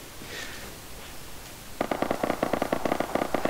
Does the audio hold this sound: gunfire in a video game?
yes